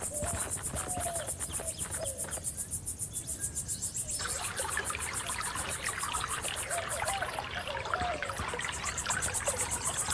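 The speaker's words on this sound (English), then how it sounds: "Would you look at that spring?" Spring water trickles softly and steadily in the video game Rosewater, a faint continuous babble under a high insect-like chirping in the background.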